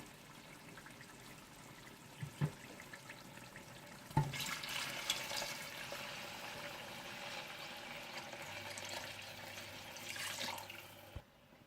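Water poured from a tap into a cooking pot of meat for kabsa, a soft trickling stream rising to a fuller rush midway and running on for several seconds, fairly faint with small clatters.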